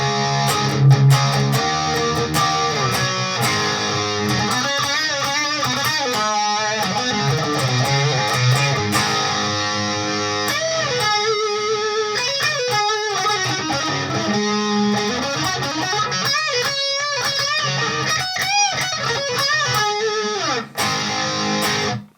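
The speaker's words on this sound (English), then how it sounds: "It's called the lead tight, and it sounds something like this." Electric guitar through the Ignite Emissary amp simulator on its lead tight setting plays a dense, loud, overdriven passage with tight palm-muted chugs and quick melodic runs, continuous and close with no speech.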